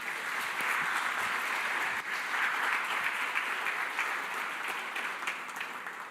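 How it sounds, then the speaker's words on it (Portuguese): A church congregation claps steadily and continuously, a dense, even applause filling the whole stretch without pause. "Aplaudindo a Jesus"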